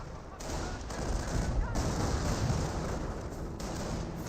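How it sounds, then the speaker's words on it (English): Artillery and gunfire rumble through a Company of Heroes battle as a dense, continuous barrage of booms and rattling shots, loud and sustained with brief breaks. "The Fairmont player is not liking the artillery hitting him."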